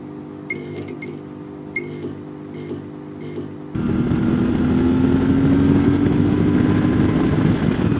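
A CFMoto 450MT motorcycle engine starts up after a few light electronic beeps, then settles into a loud, steady rumbling idle close by.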